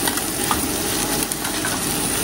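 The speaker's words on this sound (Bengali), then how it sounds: "ওদিকে মাছটাও ভাজা ভাজা প্রায় হয়ে গেছে" Small tengra fish fry in a home-kitchen pan with a steady, close sizzle that runs unbroken throughout, with no talking.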